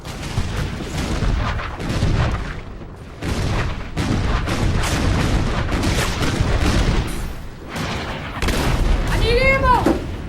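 Staged skit battle with loud, dense gunfire and artillery booms rolling almost continuously nearby, punctuated by sharp bursts and brief lulls, with shouted voices mixed in.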